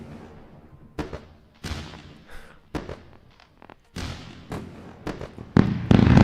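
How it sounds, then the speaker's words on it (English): Fireworks go off in celebration of a giveaway winner: a run of sharp booms and crackling bursts at irregular intervals, each trailing into fizzing decay, growing denser and louder toward the end. "Boom, with the fireworks of celebration"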